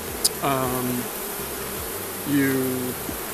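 Honeybees buzz around an open hive during a midsummer inspection, a steady drone with a few louder passes of individual bees close by.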